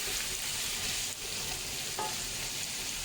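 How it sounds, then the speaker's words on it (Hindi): Mutton and onions sizzle loudly in a pot for a spicy stew while being stirred, a dense steady frying hiss with a couple of brief spoon scrapes and no talking. "अच्छा, अब ये गोश्त और प्याज मिल गए तो हम इसे मिला देते हैं लहसुन, अदरक और हरी मिर्ची।"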